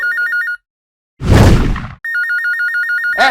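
Telephone in a restaurant ringing with a bright, trilling electronic ring, close and loud, in bursts broken by a loud noisy clatter, then ringing again.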